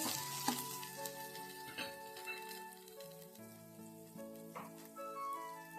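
Tomatoes sauté in a frying pan for a restaurant-style breakfast dish, giving a soft, steady sizzle with occasional stirring, quiet and faint beneath a melodic tune.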